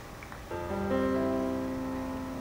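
Electronic keyboard played by a band's keys player, a short phrase of sustained notes building into a held chord, moderately loud and alone over faint room noise.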